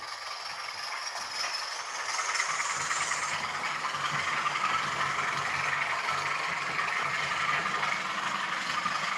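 Model Class 20 diesel locomotive sound with a steady mechanical engine drone and a rattling hum, rising slightly in loudness, continuous and fairly close.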